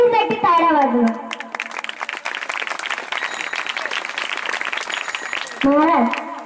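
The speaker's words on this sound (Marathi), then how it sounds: "आणि तुम्ही या सर्वांसाठी टाळ्या वाजवाल तर तुमच्याही साठी टाळ्या वाजवा" An audience at a kirtan gathering breaks into a sustained round of applause for several seconds, framed by a person speaking before and after.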